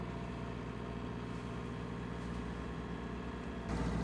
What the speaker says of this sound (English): the engine is on